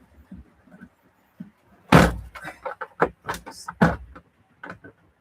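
A door is pushed shut in a shed during a chilly day, giving a sharp thud and rattle followed by a few smaller knocks and clunks, with faint background sounds around it.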